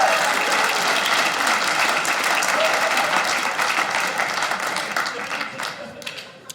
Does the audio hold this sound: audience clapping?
yes